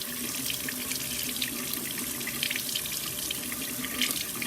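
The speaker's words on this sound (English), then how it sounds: "turn on the water." Tap water runs steadily into a sink while makeup brushes are rinsed clean, a continuous close splashing hiss with no talking.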